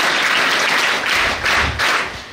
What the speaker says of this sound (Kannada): ಅದಕ್ಕೆ ನೀವೇ ಚಪ್ಪಾಳೆ ತಕ್ಕೊಳ್ಳಿ